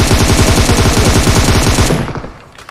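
Rapid automatic gunfire from a weapon in the battle royale mobile game PUBG Mobile, a loud, dense burst of fast repeated shots lasting about two seconds before cutting off and trailing into quieter sounds.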